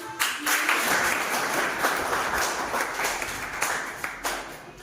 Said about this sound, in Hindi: सबसे पहले तो बलराम जी के लिए तालियां